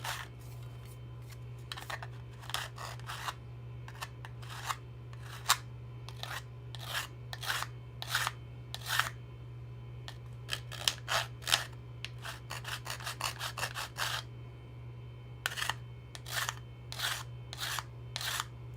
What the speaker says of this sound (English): Try and use the whole length of the file to keep that, or make that side straighter than it is.